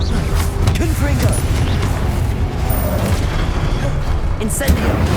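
A Confringo blasting spell explodes in a Harry Potter video game: dense, loud booming rumble with mechanical clatter that fills the whole stretch, with a voice over the top.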